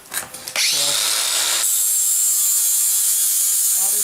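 An angle grinder bites into plasma-cut metal to strip off dross, spinning up and then grinding loudly and continuously with a harsh, high hiss that steadies after the first second.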